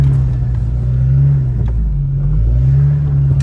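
A front-wheel-drive VW Golf on summer tyres in winter revs steadily in third gear, a loud, close, droning engine rumble that holds at a constant pitch throughout.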